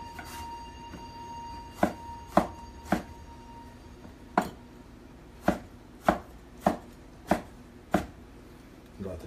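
Sharp knife chopping tomatoes, red onion, red pepper, scallions and jalapenos on a board: about ten crisp, separate knife strikes, irregular at first and then steady, close and clear with no talking.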